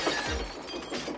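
Coach window glass shatters under dropped stones in a brief, sharp crash followed by a short spray of breaking shards, fairly quiet overall and heard alone.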